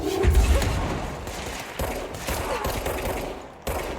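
Rapid automatic gunfire rattles in the video game Control, a dense, sustained fusillade that cuts off briefly and resumes in loud bursts.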